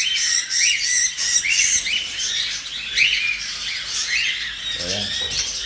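Breeding pet birds in an aviary squawk and chirp in a dense, continuous chorus of overlapping high calls, fairly close and steady throughout.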